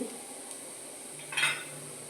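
A spoon stirs onion with garlic masala and turmeric in a pan for kurdai kanda, a quick Maharashtrian dish, giving a soft steady scrape with one brief louder scraping burst near the end.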